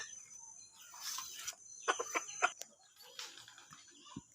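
A hybrid red junglefowl decoy rooster kept for hunting wild chickens, giving several short, sharp clucks and calls in quick bursts, close by, over a quiet outdoor background.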